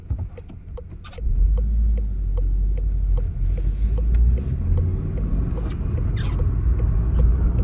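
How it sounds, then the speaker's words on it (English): A VW Golf R Mk7.5 with a Unitronic Stage 1+ tune drives along. A steady, deep engine rumble with a soft intake whoosh fills the cabin, louder after a brief quieter opening. "You will hear the intake a little bit swooshing."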